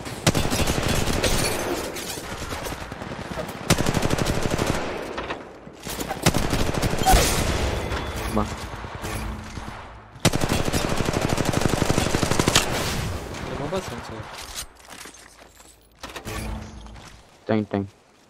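Rapid bursts of automatic gunfire in a video game dominate, with repeated rattling volleys and brief pauses, loud and close, mixed with a few scattered single shots.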